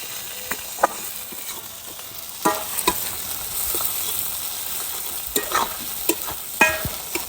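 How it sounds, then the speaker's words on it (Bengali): Chopped onion frying in hot oil, a soft background sizzle punctuated by scattered scrapes and knocks of a spatula stirring the pan, near and unaccompanied by speech. "পেঁয়াজটা কুচি করে কাটা ছিল, সেটাকে গরম তেলের মধ্যে দিয়ে দিচ্ছি।"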